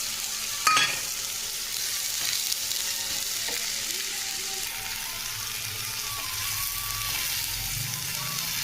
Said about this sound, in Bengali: আলু আর পেঁয়াজটা সুন্দর করে মিশিয়ে নিয়েছি। এবার লাল করে ভাজতে হবে